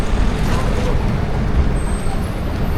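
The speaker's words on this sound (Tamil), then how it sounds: "இதான் நம்ம வண்டி போகுது பாருங்கோ. போட்டில் ஏற போகுது." A vehicle rolls onto a ferry boat with a loud, continuous engine and road rumble close by, amid a noisy open-air boarding scene.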